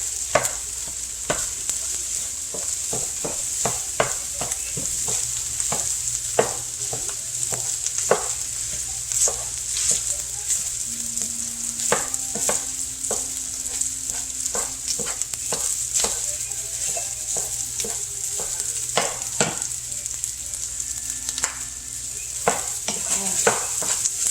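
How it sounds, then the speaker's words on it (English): Leftover rice fries in a hot pan while being stirred and broken up, giving a steady close sizzle throughout with frequent sharp scraping strokes of the utensil against the pan. "I'm going to let this fry up, and as this rice gets warm, it'll break up on its own."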